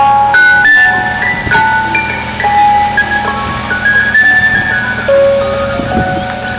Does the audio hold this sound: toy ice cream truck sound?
yes